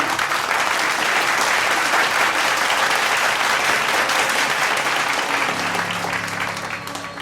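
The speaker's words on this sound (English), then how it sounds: "A very big round of applause to Aditi." Loud, continuous clapping from a school annual day audience during prize giving, a dense wash of hands that holds steady before gradually thinning toward the end as a faint tone emerges.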